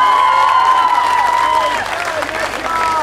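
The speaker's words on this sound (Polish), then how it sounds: "wielkie brawa dla Tauronu Stali Mielec!" An audience applauds the Tauron Stal Mielec team at its season presentation, a steady, dense wash of clapping and crowd noise that continues for the whole stretch, with a tonal, music-like line running through it.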